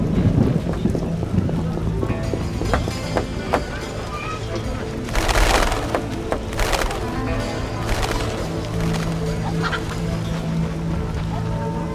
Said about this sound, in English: Storms come in.